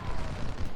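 Quick-firing Civil War cavalry fire a rifle volley in Ultimate General: Civil War, a short dense burst of overlapping distant musket cracks and rumble lasting under a second.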